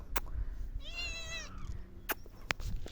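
A single drawn-out cat meow sounds close by, clear and tonal, with scattered clicks and low background noise around it.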